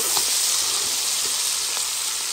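Onions frying in hot oil for a chicken curry, a constant bright sizzle with a few soft pops, loud and close, no voices.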